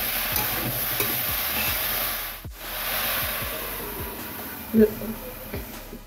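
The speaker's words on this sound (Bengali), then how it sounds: "হলুদ দিলাম আর অল্প চিনি দিলাম, দিয়ে লাউটাকে এইভাবে নাড়িয়ে মজিয়ে দেবো।" Bottle gourd seasoned with salt, turmeric and a little sugar is stirred in a hot pan, giving a steady frying hiss with repeated spatula scrapes, and a voice briefly speaks over it.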